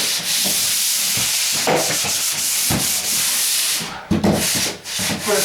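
A sanding pole rubs back and forth across a drywall top coat in long, steady abrasive strokes, loud and close, with short pauses between passes.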